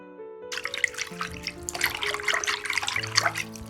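Hot tap water runs and splashes over boiled chicken wings in a kitchen sink, with a bright continuous splashing and trickling that grows busier partway through, close up with no talking.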